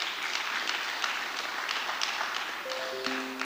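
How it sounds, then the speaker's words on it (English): An audience at a summit event gives a steady round of applause, many hands clapping evenly at moderate distance throughout, with a faint tonal sound creeping in at the very end. "Round of applause for her, please."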